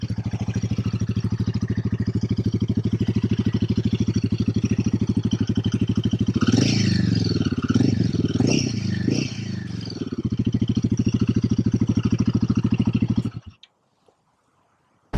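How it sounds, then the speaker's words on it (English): A Royal Enfield Himalayan 450 motorcycle idles with a steady, deep thump from its stock exhaust, briefly blipped and revved in the middle, then cut off abruptly near the end. "This is the stock exhaust."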